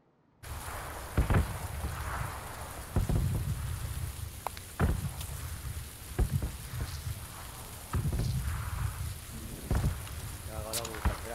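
Heavy rain pours steadily throughout, with repeated sharp cracks and rumbles of thunder breaking through at irregular intervals, while a person talks intermittently underneath.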